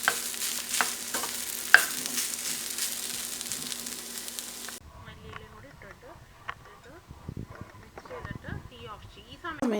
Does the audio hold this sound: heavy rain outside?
no